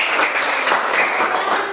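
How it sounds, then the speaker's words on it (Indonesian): A short burst of applause from a group, steady clapping that fades slightly toward the end. "Oke, tepuk tangan dulu."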